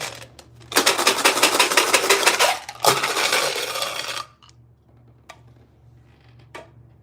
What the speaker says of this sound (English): Headphone warning, the dice are going to get loud.